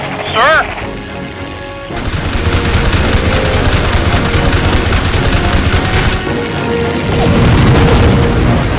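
Explosions and heavy gunfire from a World War II Pacific air combat game on ace difficulty during a rocket attack on ships, a dense continuous barrage of booms and rapid shots that begins after a short opening and swells loudly near the end.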